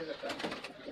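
A Pakistani teddy pigeon gives a soft, brief coo close by at low volume over faint background noise.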